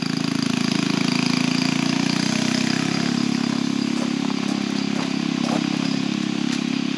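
A small gas engine on a Power Wheels monster truck fitted with a jackshaft and widened track runs hard and steady with a buzzy, clattering drone that dips slightly and carries through several seconds without talking.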